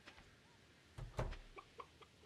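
Chickens on a farm in the video game Stardew Valley give a few soft, short clucks, with one denser burst in the middle, faint against a quiet background.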